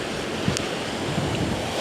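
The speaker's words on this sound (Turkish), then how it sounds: "Şu an deniz. Bayağı dalgalarla boğuştum." Sea waves surging and washing in a continuous broad roar, close and fairly loud, mixed with gusty wind buffeting the microphone.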